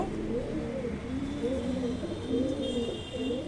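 Pigeons kept for sale in Kolkata coo in soft, repeated rolling calls, fairly close, over a faint background hum, with no voices.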